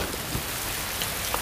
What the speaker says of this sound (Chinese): 要 下雨了